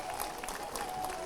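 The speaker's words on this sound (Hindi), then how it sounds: "तालियां तो बजा दो" Audience clapping during a winter yoga session with Baba Ramdev, a short, moderately loud patter of many hands with some voices mixed in.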